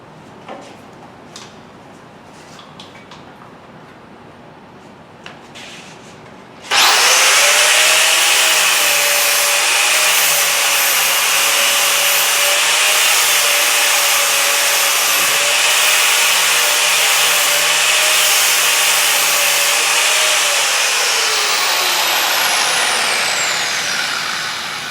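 An angle grinder with a grinding wheel cleans a metal workpiece, starting abruptly with a loud, bright, sustained whine and grinding hiss that holds steady for about fifteen seconds, then winds down as the wheel slows.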